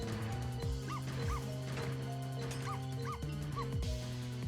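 A dog in the video game Ghost Trick: Phantom Detective yips and barks in several quick, bright bursts over busy looping game music, with a brief thump partway through.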